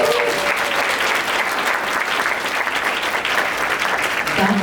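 Enthusiastic, loud audience applause at the 2024 Barbara Bates fashion show, continuous massed clapping from a close crowd with no break across the short stretch.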